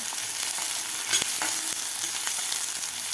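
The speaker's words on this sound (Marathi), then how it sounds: "आता कांदा आपल्याला थोडासा गोल्डन कलर होईपर्यंत परतून घ्यायचा आहे" Finely chopped onion sautéing in hot oil for a chicken curry, a dense continuous sizzle up close with occasional soft stirring scrapes, no voices.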